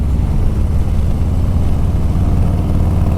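A 2021 Harley-Davidson Street Bob FXBBS motorcycle engine with a chain-driven cam runs with a loud, steady low-pitched rumble, heard close and continuous without any revving swell or voices.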